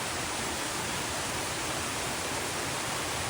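A waterfall on the Appalachian Trail roars as a dense, unbroken wash of rushing water, steady and even throughout with no voices.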